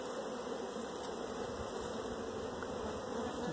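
Honeybees in a busy hive colony buzz in a steady, dense drone, faint and continuous while the hive is opened for splitting, with no voices.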